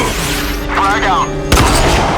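In the video game RAGE, a frag grenade goes off as one sudden, loud blast late in the moment. Before it comes a stretch of game ambience with a brief voice-like warble.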